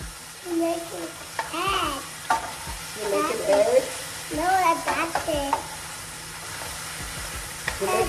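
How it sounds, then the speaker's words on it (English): Sausage frying in a pot as a toddler stirs it with a spoon: steady sizzling with repeated squeaky scraping stirs in uneven bursts, heard close. "Now hold the pot with the spoon. And let's stir it."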